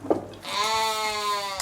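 A bottle-fed lamb on a village farm gives one long, wavering bleat, close and clear, after a brief soft noise at the start.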